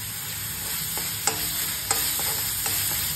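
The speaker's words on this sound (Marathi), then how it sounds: "सगळं पुन्हा एकदा भाजून घ्यायचं आपण।" Spices with asafoetida and turmeric roast in oil in a pan over a low flame for a vegetable dish, giving a steady sizzle with a few sharp spoon scrapes and clinks as they are stirred, heard alone.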